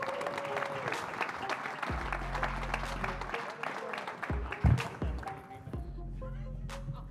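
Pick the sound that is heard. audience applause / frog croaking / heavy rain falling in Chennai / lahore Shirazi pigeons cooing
audience applause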